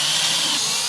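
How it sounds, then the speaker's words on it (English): Power drill driving a screw into a toy hauler's wall at a stud, a steady high-pitched whir running unbroken for under a second, close and loud with no talking. "I'm just gonna put a screw through here a little bit"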